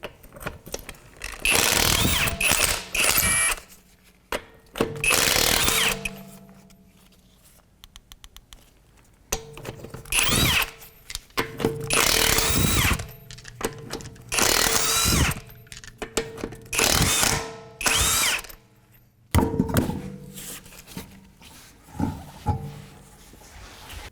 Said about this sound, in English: We're going to take our wheel off and use a 22mm socket.